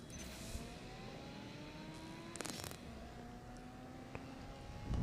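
Subaru engine from the CSR2 racing game revving steadily, with rising tones sweeping upward through the run and a couple of brief sharp clicks, held at a constant moderate level with no talk.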